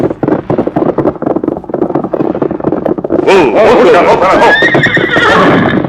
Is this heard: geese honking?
no